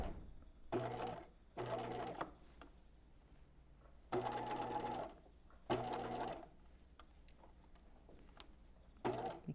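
A sewing machine back stitching fabric at a 2.5 mm stitch length, running in short bursts of rapid mechanical whirring separated by quiet pauses, fairly faint and close, with no voices.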